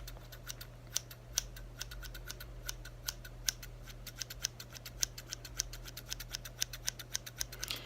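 Scissors snipping off beard hair in a close-up ASMR shaving role play, a quiet rapid series of crisp metallic snips in an irregular rhythm over a low steady hum.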